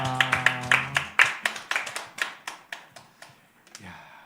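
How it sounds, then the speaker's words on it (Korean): A church congregation claps in praise after a prayer, a run of sharp, fairly even hand claps that starts strong and loud, then slows and fades toward the end, with a brief sung or spoken tone at the start. "하나님께 영광 박수 올려드립니다"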